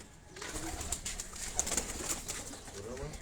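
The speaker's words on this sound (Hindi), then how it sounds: "और भी बहुत सारे कबूतर हैं।" Soft pigeon coos from rooftop pigeons in Karachi drift over a steady outdoor hiss, with faint scattered chirps; the cooing is fairly quiet and distant.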